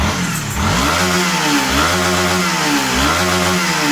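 Honda CB150 motorcycle engine revved hard at full throttle, loud and close, with repeated rising and falling surges of engine pitch and no talking.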